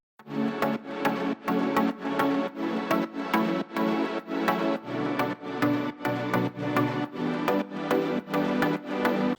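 Bright tropical house synth chords made in FL Studio pulse in a steady, repeating rhythm, each stab clipped short, played alone and fairly loud.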